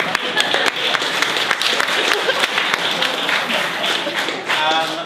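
Audience applause at a political forum, a dense steady clapping from a room of people lasting throughout, loud and close with scattered sharper claps standing out.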